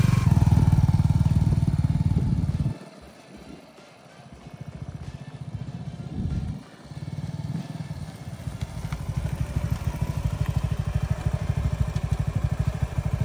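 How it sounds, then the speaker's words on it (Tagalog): Motorcycle engine, a Suzuki SF250 or Yamaha MT-03, idling loud and close, dipping briefly, then revved up with throttle blips into a steady, rapid, throbbing roar. "Ito ang throttle response."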